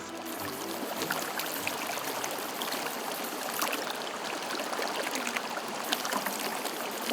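A forest river's water rushes strongly in a constant, dense flow. It sounds close and fairly loud, with no voices.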